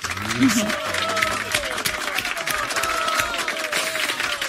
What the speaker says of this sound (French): ça mérite des applaudissements maintenant